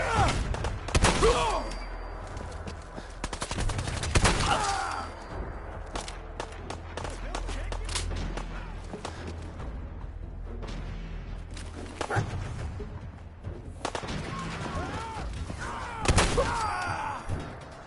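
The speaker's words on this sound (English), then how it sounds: "both shots from the double barrel shotgun and they're dead" Double-barrel shotgun blasts in Fallout 4, heavy booming shots spread across the stretch, set among other gunfire, thuds and game ambience.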